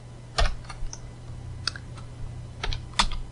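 Code is typed on a computer keyboard: close, irregular key clicks in small clusters with short pauses between them.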